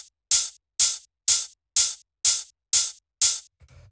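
Crisp, hard-hitting hi-hat sample from an atmospheric house track, struck seven times in a steady even pulse, each hit bright and short with a quick decay, alone with no talking.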